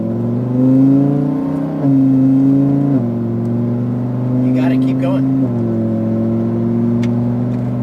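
A Lamborghini STO accelerates on a track, its engine droning loud and close with several stepped rises and drops in pitch as the throttle is squeezed and eased, while an instructor speaks over it.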